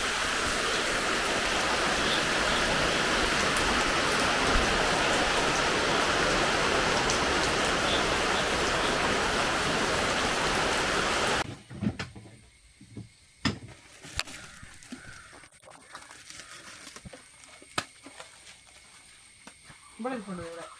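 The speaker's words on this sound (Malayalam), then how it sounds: "രാത്രി നല്ല മഴയാണല്ലോ." Heavy nighttime rain pours in a dense, steady roar for about eleven seconds, then stops abruptly, leaving a quiet space with scattered soft knocks and movements.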